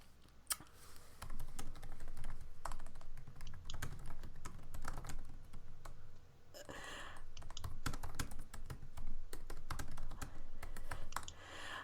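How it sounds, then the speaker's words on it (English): Real-time typing on a computer keyboard, dense rapid clicks of keys in irregular bursts with short pauses, close and continuous, no talk. "they're typing in real time"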